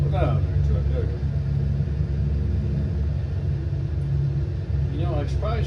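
A truck in American Truck Simulator drives through rainy Colorado and Utah scenery, its engine making a deep, continuous low rumble that holds steady throughout, with a few faint vocal sounds near the start and end.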